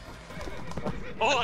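A brief horse whinny in a Wild West co-op story mission in CS:GO, rising near the end right after a short spoken exclamation.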